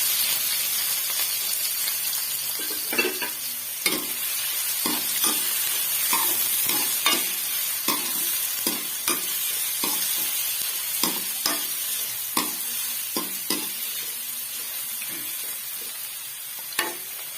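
Chopped large onion frying in oil in a pan, a steady close sizzle running throughout with frequent clacks and scrapes from stirring, no talking.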